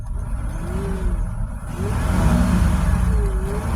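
A Chevrolet Astro van engine with low oil pressure revving as the gas is pressed, a loud close mid-pitched rumble that climbs and holds steady, with no talking.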